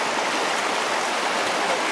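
River rapids rush loudly and close, a dense, steady roar of churning water that never lets up, with no voices.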